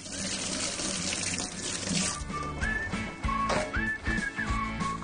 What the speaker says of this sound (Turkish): Şimdi sıvılar varken elimi bir yıkayayım.